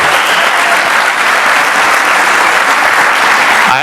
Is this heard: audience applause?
yes